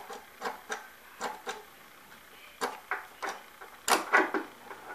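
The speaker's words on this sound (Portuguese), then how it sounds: "E aqui vamos ligar o toca-discos." A record player with a faulty power switch is handled and switched on, giving a series of close mechanical clicks and knocks in an irregular rhythm over a quiet background.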